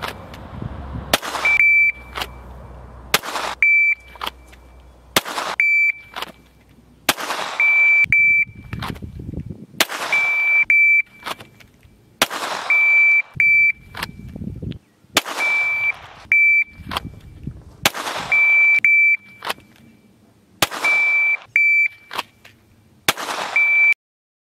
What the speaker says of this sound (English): fired 10 rounds, 10 strings of 1 round each on the shot timer, the par time of 2 seconds